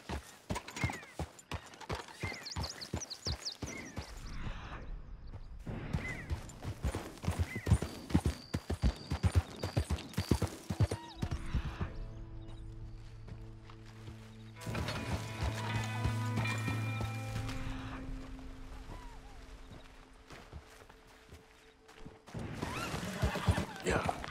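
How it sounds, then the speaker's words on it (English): Hooves of a thoroughbred horse in the video game Red Dead Redemption 2 clip-clop in fast rhythmic runs, with a neigh and in-game ambience in the quieter stretches, moderately near. "That's a thoroughbred horse."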